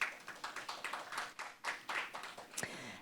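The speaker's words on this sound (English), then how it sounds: "Please give her a round of applause as well." A small audience claps at a conference session, the scattered claps quick and uneven, close to the microphone and lasting only a few seconds, with no talking over them.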